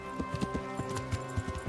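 Horse hooves clip-clop at a quick, even pace in the medieval game Kingdom Come: Deliverance, each strike distinct and close, over a faint steady tonal backdrop.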